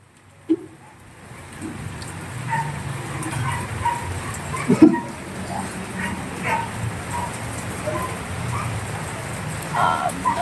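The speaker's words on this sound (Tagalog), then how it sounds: "Lakas ng ulan." Heavy rain patters steadily on a surface at a construction site, with occasional knocks and a dog barking briefly in the background.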